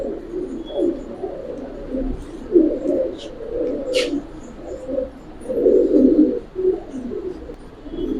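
Giribaz pigeons coo in low, throaty, overlapping murmurs close by, rising and falling in swells, with a brief faint chirp in the middle and no talking.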